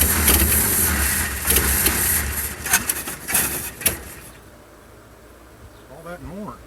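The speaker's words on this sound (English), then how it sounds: "Crank her again." A race car engine cranks and runs with a loud, buzzing roar for about four seconds, then cuts out, leaving quiet with a faint voice near the end.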